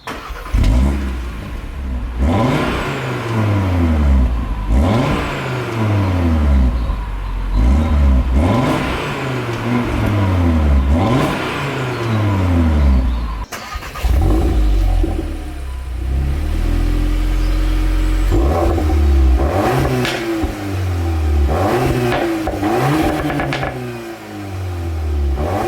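A 2022 Audi RS3 and a VW Mk8 Golf R are started in turn on a lay-by. Each engine fires up and is revved in repeated rising and falling bursts, loud and close, with a deep rumble between the blips.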